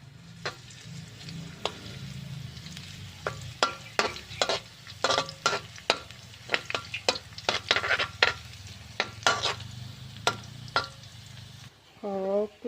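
Minced garlic stir-frying in hot oil in a pan, heard as a steady close sizzle broken by repeated sharp clinks and scrapes of a utensil stirring, with a short voiced bit near the end.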